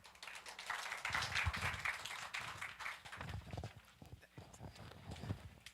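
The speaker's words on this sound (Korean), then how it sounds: "김 교수님을 박수로 맞아주십시오." A small symposium audience claps to welcome a university professor presenting on ozone and air quality. The applause is faint and fairly sparse, swelling briefly and then breaking into scattered individual claps and knocks.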